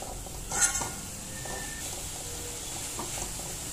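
Peas and corn with capsicum being stir-fried in a pan, a soft steady sizzle with light scraping of a spatula, one brief louder clatter near the start.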